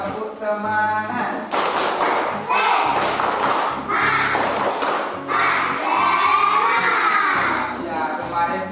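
A class of fourth-grade schoolchildren in an Indonesian classroom perform a rhythmic spirit clap chant, loud bursts of patterned clapping and shouted voices in quick sequence.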